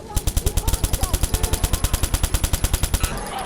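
Rapid automatic gunfire from the video game Watch Dogs, a steady burst of about twenty evenly spaced loud shots over three seconds, close and sharp, ending abruptly.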